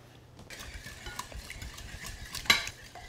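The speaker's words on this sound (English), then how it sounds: "Give it another whisk." A whisk working freshly squeezed orange juice into a sweet potato dessert mixture in a bowl, producing light rhythmic swishing with soft clinks of metal on the bowl and one sharper knock, close and quiet with no talking.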